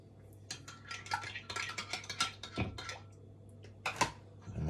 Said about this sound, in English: 2 eggs. And your buttermilk. Right, give that a little stir.